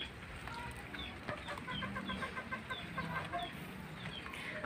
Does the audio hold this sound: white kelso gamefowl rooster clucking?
yes